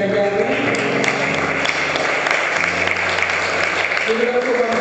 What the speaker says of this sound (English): give a round of applause for the Gatlin family, Karen Gatlin.